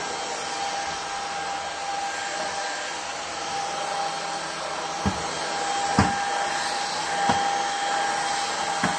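A Kissof S17 cordless stick vacuum cleaner runs with a steady, loud motor whine and airflow hiss throughout, with a few brief knocks near the end as the brush head moves.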